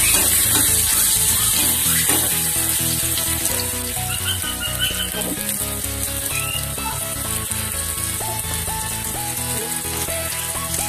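Potatoes frying in hot oil in a home kitchen, a steady dense sizzle and crackle with scattered pops, continuous and fairly loud throughout, with no talk over it.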